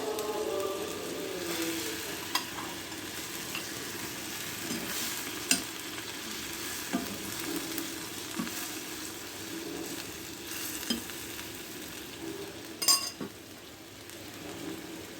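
Fried boal fish simmers in a mustard and ginger paste thinned with water, giving off a soft continuous bubbling sizzle near at hand, broken by occasional clinks and scrapes of a utensil against the pan.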